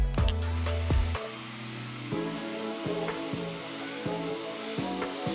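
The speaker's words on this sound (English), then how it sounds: "when you use the wire brush, it'll start to take that smoothness off and you'll get these ridges" A wire brush on a power tool roughens pine wood, a whining motor hum with rough scraping bursts that rise and drop in short passes, close and fairly loud.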